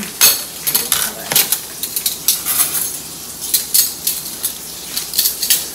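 New spoons and cutlery clinking together, a run of bright, close metallic taps and jingles in quick irregular clusters.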